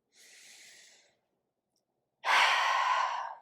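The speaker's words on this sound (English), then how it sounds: "Take a full breath in." Deep breathing during a beginners yoga session, close and clear: a soft inhale, a brief pause, then a longer, louder exhale through the mouth.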